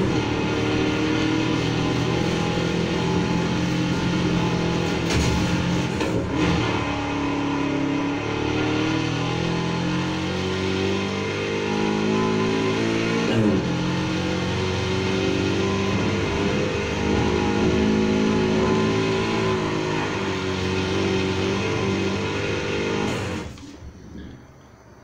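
Car engine in the Need for Speed Heat racing game drones loud and steady as it revs while driving, its pitch rising and dipping through gear changes, then cutting off abruptly near the end.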